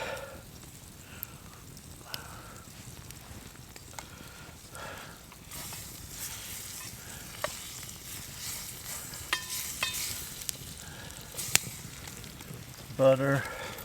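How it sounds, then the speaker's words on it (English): Butter sizzles and fries softly in a pan on an outdoor camp stove while being stirred, with scattered scraping clicks and a faint steady hiss. "We'll throw the butter in here."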